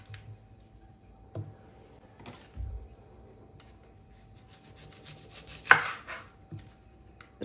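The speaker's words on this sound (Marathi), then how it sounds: "आता मी कांदे कट करून घेते बारीक।" Onions are chopped finely with a knife in a quiet kitchen: sparse, soft knife knocks on a board, spaced irregularly, with one sharper clack near the end.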